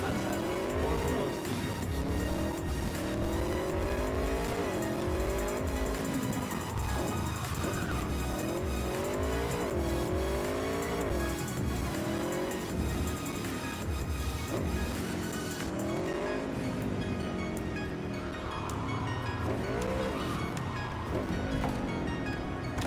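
A car in the video game Cyberpunk 2077 revs hard and drives with rising and falling engine pitch, its tires squealing loudly during turns and skids, a steady close, aggressive engine drone throughout.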